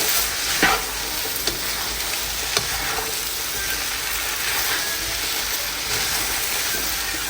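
Capsicum and onion sizzle and hiss steadily in a hot pan for chicken noodles, a loud, dense frying crackle with occasional sharp scrapes and knocks of the stirring utensil.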